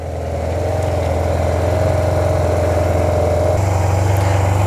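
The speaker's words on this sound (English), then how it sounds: "Really quiet, doesn't seem to burn oil. I want to let it run for a bit" A Yamaha TMAX scooter engine, just jump-started after sitting with a dead battery, idles with a steady low throb. It sounds loud and close, with a slight shift in pitch near the end.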